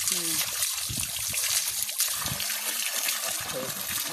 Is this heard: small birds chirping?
no